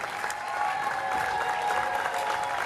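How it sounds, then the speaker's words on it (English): Steady crowd applause at a Class A girls state basketball finals in an arena, a sustained wash of clapping from many hands that holds at even volume throughout, with no talk over it. "Let's give both of our competitors one more round of applause."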